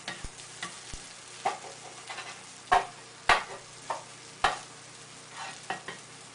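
Eggs with melting cheese are stirred in a frying pan on a garage cooking setup, giving a run of scraping clacks and soft sizzling at close range with no talking.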